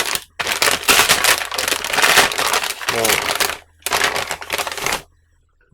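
Plastic wrap on a smartphone mount package for a Ninebot Mini handlebar is torn and crinkled in loud, close bursts with short pauses between, while someone talks briefly.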